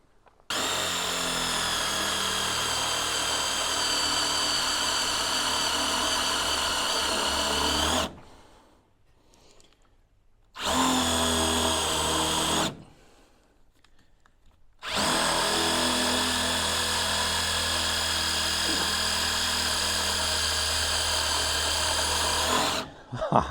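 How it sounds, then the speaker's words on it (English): A power drill drives screws while gable end windows are installed, whining steadily in three long runs separated by short pauses, close and loud. "So I'm just going to whack these screws in quickly."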